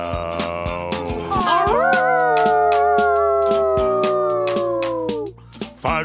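Cartoon puppies howl together like a fire truck siren, a long rising and wavering cry over a bouncy music track with steady percussion.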